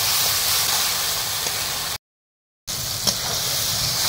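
Tomatoes being sautéed with salt in a pan while making a sea chital fish oil-chili curry, a continuous hissing sizzle broken by a short gap of silence before it resumes at the same level.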